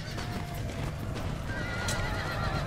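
Lifeguard cavalry horses in the Empire Total War video game gallop with dense, continuous hoofbeats and repeated neighs and whinnies over battle noise, loud and close throughout.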